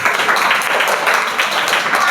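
Schoolchildren in a classroom clap together, a quick scattered patter of hands in uneven bursts close by and moderately loud, with voices mixed faintly into the noise.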